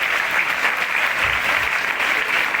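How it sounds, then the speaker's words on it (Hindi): Schoolchildren at an Independence Day cultural program at a school clap in a steady, dense wash of applause, even and continuous with no breaks. "सभी बच्चे तब तक तालियां बजाते रहें जब तक थक नहीं जाते।"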